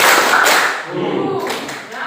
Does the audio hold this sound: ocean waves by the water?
no